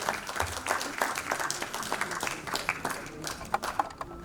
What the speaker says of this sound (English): Let's put our hands together and give them a round of applause.